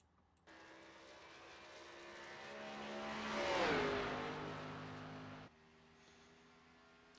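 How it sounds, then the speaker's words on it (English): Xfinity Series stock cars race at Homestead-Miami Speedway, with one car's engine rising as it approaches, peaking loud as it passes close by, then fading while others drone on in the distance. "Let's get you some car sounds,"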